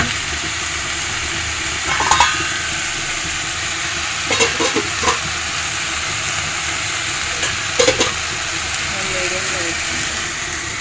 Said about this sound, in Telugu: గోంగూర అంతా ఫ్రై అయిపోయింది చూసారా